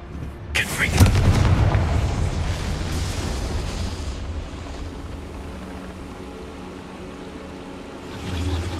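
A Confringo blasting spell from Hogwarts Legacy erupts in a loud, booming explosion, a sharp crack followed by a rumbling roar that slowly fades into a lingering low rumble, with a lighter swell returning near the end.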